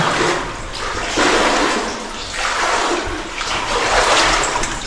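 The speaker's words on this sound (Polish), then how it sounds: "Woda spływa z tego schodnika." Continuous rushing, splashing water flowing down a mine gallery at Tarnowskie Góry, surging louder and softer in waves, echoing slightly in the enclosed space.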